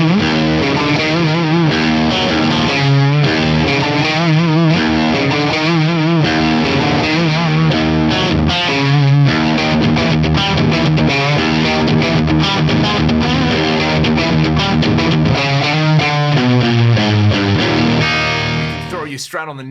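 Loud, sustained high-gain electric guitar from a Strat played through the Fractal Audio ICONS Pasadena plugin's Plexi amp models: thick distorted chords and riffs that ring out continuously, alone and without talk, before cutting off at the end.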